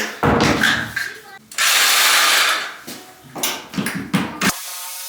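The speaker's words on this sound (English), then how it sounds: "I'm just gonna cut with my Sawzall straight down this edge here." A Sawzall reciprocating saw cuts straight down through a bathroom wall during demolition, in loud, close bursts of harsh buzzing and rattling broken by short pauses and clunks.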